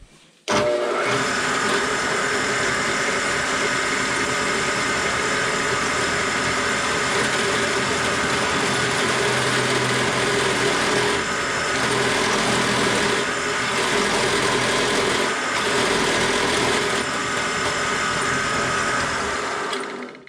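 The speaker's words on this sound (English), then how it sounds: "So I will drill these holes and tap them, and then start assembling." A power drill whines continuously at high speed for a long stretch while drilling holes in metal, with slight shifts in pitch as it bites into the material.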